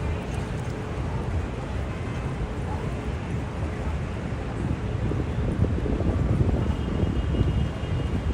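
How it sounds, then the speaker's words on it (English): Wind buffets the microphone on a city street in Times Square, New York, during a spring walk, a steady low rumble that grows gustier toward the end, with a voice speaking over it. "As I hear, the weather is a bit windy there."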